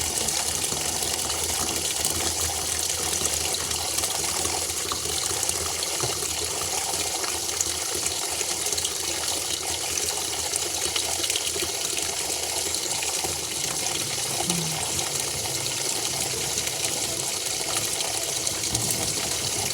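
Water pours steadily into a coconut-shell container, a continuous close gushing that runs evenly for the whole stretch with no talking.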